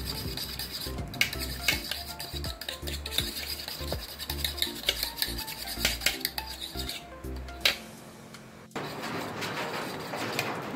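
A chocolate ice cream mixture is stirred in a bowl, a busy run of scraping and clinking utensil strokes, close and steady, ending in a softer hiss that sounds like rain outside.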